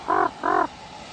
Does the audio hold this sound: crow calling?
yes